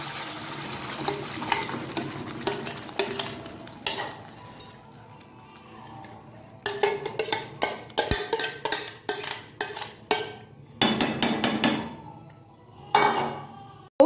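Papaya paste being stirred in ghee in a pan while making papaya halwa, with repeated scraping and stirring strokes and a soft sizzle, growing busier and louder in bursts toward the end.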